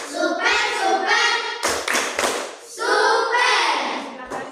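A class of students performs a rhythmic clapping cheer, with bursts of group claps mixed with chanting voices and a teacher speaking over it.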